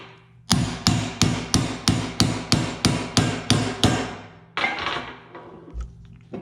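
Rapid metallic hammer blows ring out while assembling a 1966 Corvette differential, about a dozen evenly spaced strikes, then a pause and a few scattered knocks, loud and close.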